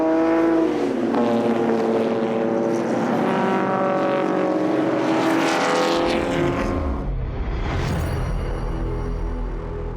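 Classic race cars at the Dix Mille Tours 2019 event, a loud engine revving and shifting through gears as a car passes close by, the pitch rising then dropping away.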